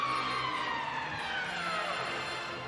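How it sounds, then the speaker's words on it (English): A hockey arena siren sounds the end of the second period at an NHL playoff game between Edmonton and Chicago in Chicago, 1983, a loud sustained wail that slowly falls in pitch over crowd noise. "stopped it as the siren goes to end the second period"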